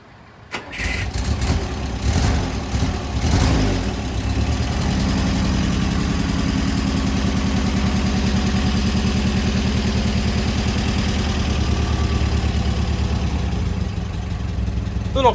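A Pinzgauer 710K military utility vehicle cold-starts with a short cranking burst, then its engine catches and settles into a loud, steady, rumbling idle close by.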